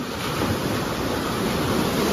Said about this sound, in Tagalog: So yung alon niya, mas malaki niya.